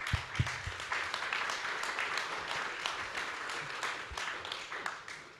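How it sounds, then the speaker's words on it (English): A panel audience at a workshop on rebuilding Lebanon claps to welcome the panelists, a moderate burst of scattered applause in a hall with a few louder nearby claps, fading toward the end. "We could welcome them with a round of applause."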